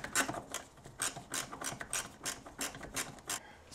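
A ratchet wrench tightens the brake booster nuts on a BMW E46 330i/325i, giving a dozen or so quick rasping click bursts in a steady back-and-forth rhythm, close and alone with no talk.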